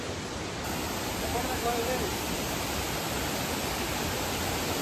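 Shadar Waterfall, a tourist spot near Paralakhemundi in Gajapati, Odisha, gives a steady broadband rush of falling water throughout, with faint talk from people nearby.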